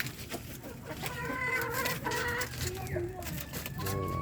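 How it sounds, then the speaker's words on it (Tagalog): A flock of five-to-six-month-old pullets clucks and chatters nearby, with overlapping calls throughout and a short crow-like call near the end. "Ito yung mga pulit ko na nasa 5 months, going to 6 months na to mga kamanok."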